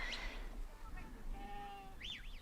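Sheep bleating at a sheepdog trial, a couple of short wavering calls heard faintly amid outdoor field noise and murmured commentary.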